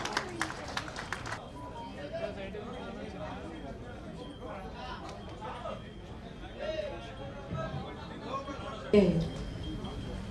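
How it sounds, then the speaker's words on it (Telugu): An audience at a book launch event bursts into a short round of applause at the start, then fades, leaving a voice speaking over a murmuring hall. "ఒకసారి మనందరం గట్టిగా చప్పట్లు కొడుతూ"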